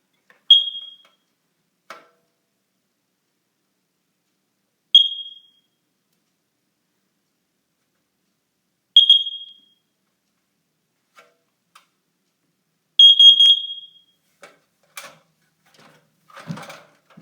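A combined smoke and carbon monoxide alarm in diagnostic mode inside a house gives short, loud, high-pitched chirps about every four seconds. The last chirp comes as a quick double, and faint clicks and handling noises sit between them.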